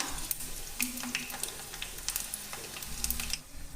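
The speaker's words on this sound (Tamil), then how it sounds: "நல்லா இந்த சலசலப்பு அடங்கின உடனே நம்ம எடுத்துடணுங்க." Ragi ribbon pakoda deep-frying in hot oil gives off a close, crackling sizzle with scattered sharp pops and bubbling bursts that rise and fall without pause.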